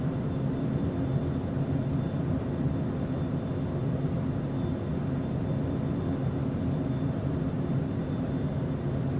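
Steady, unbroken engine drone heard from inside an airplane cockpit while turning onto final approach, a constant loud rumbling hum with no voices.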